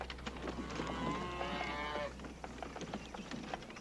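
A single cow lets out a long, drawn-out moo at moderate distance over a low steady rumble, followed by faint scattered outdoor noise.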